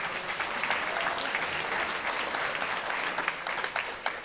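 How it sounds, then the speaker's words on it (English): An audience at a college summer band concert claps steadily for several seconds, a dense even round of applause with no voices standing out. "round of applause"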